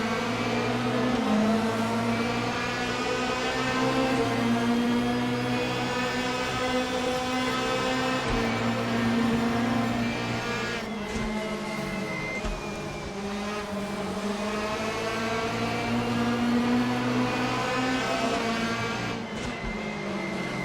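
Several 2002 DTM race car engines in the Raceroom racing game drone and wail together close by, pitch rising and falling with throttle and gear changes in a continuous, dense pack with no talk.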